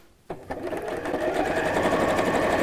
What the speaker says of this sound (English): now let's pop this onto the sewing machine, and I'm just going to stitch along both sides.